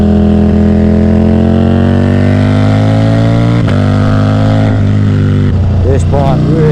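A Ducati Diavel V4 motorcycle fitted with an Akrapovic full race exhaust idles and runs with a loud, steady, deep V4 drone, close by, with a brief blip midway and a few short revs near the end.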